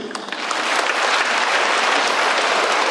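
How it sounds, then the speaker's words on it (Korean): An audience at a Catholic lecture during a corn festival breaks into sustained, dense applause that swells within the first half second and holds steady, with no talking over it. "박수를 쳐드립니다"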